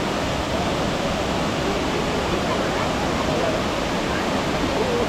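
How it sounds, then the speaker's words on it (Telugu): Elephant Falls in Shillong, Meghalaya, roars as a continuous, dense wash of falling water that stays loud and steady throughout. "ఎలిఫెంట్ వాటర్ ఫాల్స్ మాత్రం చాలా బాగుంది."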